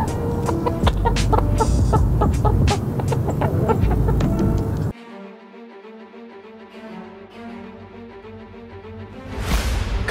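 Chickens in an old chicken coop give loud, busy clucking for several seconds before the sound drops to a quieter, steadier background.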